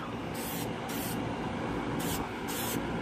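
Several short hissing bursts from a spray can of Plasti Dip tinting car tail lights, four separate sprays with pauses between them, close by over a steady background rumble.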